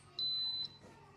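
A single clear, fairly soft electronic beep from an electric pressure cooker coming to pressure with a Latin beef stew inside, lasting about half a second, followed by quiet.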